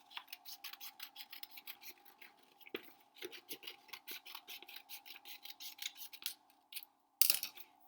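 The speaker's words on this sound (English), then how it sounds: "You're going to cut that one glove out that you made." Scissors snip through paper as a glove shape is cut out in a classroom, a quick run of rhythmic crisp clips and rustles with a short pause and a louder final snip.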